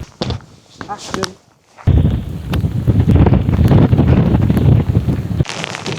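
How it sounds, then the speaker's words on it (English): Strong, steady wind buffets the microphone at Malham Cove, a limestone cliff in Yorkshire, as a loud, continuous roar that starts after brief talk and runs for several seconds before easing, with voices heard at the start and end. "It's a bit windy."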